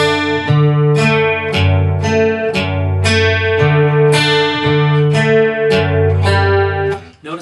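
Acoustic guitar plays a repeating arpeggio from a song, picked cleanly in rhythmic note groups that ring out, loud and close with no talking.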